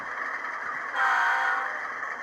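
A single short toot of an HO scale model train horn, imitating a BNSF locomotive consist, rises over a steady mechanical hum, then fades back to the background drone.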